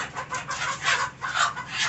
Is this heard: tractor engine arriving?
no